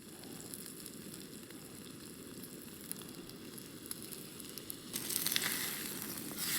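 Steak sizzling in a pan while cooking outdoors on a mountain, a steady faint crackle and hiss with a brighter flare of sizzle near the end.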